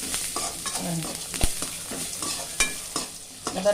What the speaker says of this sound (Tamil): இஞ்சி போட்டு இதிலே போட்டுருங்க நல்லா வதக்கிடு சின்ன தீயில் வச்சு வறுத்துக்கோங்கம்மா